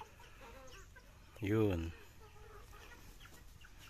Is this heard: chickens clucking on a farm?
yes